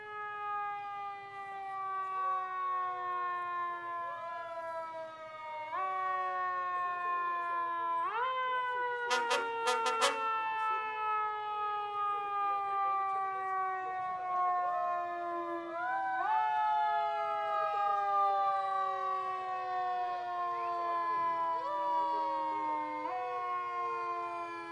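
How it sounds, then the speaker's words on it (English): A Moreno Valley Fire Department engine's siren at a 2018 Fourth of July street parade, a loud continuous wail rising and falling in repeated stepped cycles, with a few sharp horn blasts midway and no talking. "From the Moreno Valley Fire Department, we have Town Gate Engine 6 with Fire Captain Norton, Engineer Nino"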